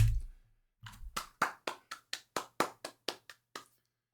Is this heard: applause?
yes